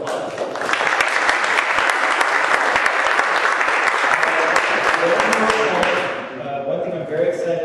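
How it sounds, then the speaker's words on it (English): A conference audience at a virtual reality talk applauds steadily for about six seconds, dense clapping that then thins out and dies away. "So please give them a round of applause"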